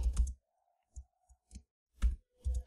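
A computer mouse gives about half a dozen sharp, close clicks at uneven intervals, with near silence between them.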